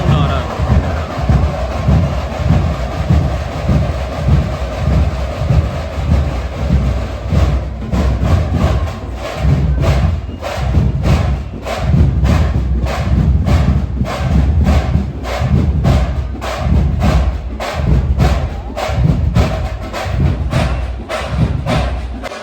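Nagada drums pound at a crowded immersion procession in a street, a loud, steady pattern of heavy beats that continues throughout while people talk nearby.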